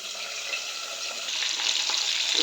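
Bitter gourd and peanuts frying in a pan, a steady close sizzle and crackle that grows slightly louder toward the end.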